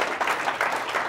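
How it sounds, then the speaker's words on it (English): Dense, steady applause from a conference audience at an international football betting conference, a short continuous burst of many hands clapping with no talk over it. "give you guys a round of applause"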